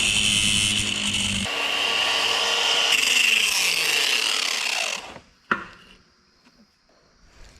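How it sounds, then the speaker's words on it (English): Angle grinder with a cutoff wheel cutting into a steel brake saddle on a DeSoto, a loud continuous abrasive whine for about five seconds, then it spins down and is followed by a sharp knock and faint handling noise. "We're going to come in here with a cutoff wheel and a grinder and just open up this saddle a little bit."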